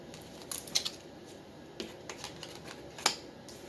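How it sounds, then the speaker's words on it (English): Crisp flicks and riffles of cards being shuffled, a few sharp bursts separated by quieter pauses, close and without speech. "I start to shuffle and cards start popping out in the reverse."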